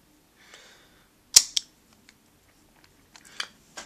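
Pulling up on a DX Astro Switch toy gives a sharp plastic snap followed by a second click, then a few smaller mechanical clicks and ticks, all close and fairly quiet.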